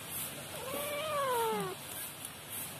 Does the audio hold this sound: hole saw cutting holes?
no